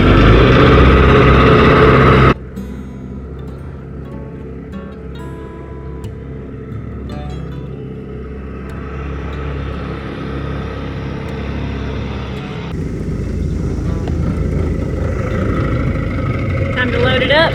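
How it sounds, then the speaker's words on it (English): A small outboard boat motor runs steadily while trolling on open water, with a loud rumble at first, then a lower continuous hum that grows slightly louder near the end. "Looks like we're gonna troll around a little bit. Just test that motor out."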